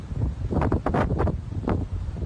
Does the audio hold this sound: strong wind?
yes